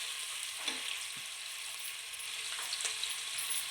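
Onions frying in oil in a pan give a steady, bright, close sizzle, with a couple of faint stirring scrapes breaking through.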